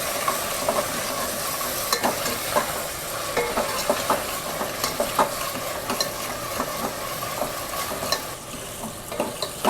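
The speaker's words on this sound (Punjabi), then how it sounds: "ਹੁਣ ਆਪਾਂ ਇਹਨੂੰ ਸਮਾਰ ਕੇ ਭੁੰਨ ਲਾਂਗੇ ਟਮਾਟਰਾਂ ਨੂੰ" Tomatoes roasting in a pan for a chana dal tadka: constant oily sizzling with repeated spoon-stirring scrapes and taps in an irregular rhythm, close and moderately loud, with no talk.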